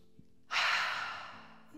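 Someone exhales slowly through the mouth while relaxing in a yoga vinyasa flow, a single soft breathy sigh that rises suddenly and then fades over about a second, close and quiet.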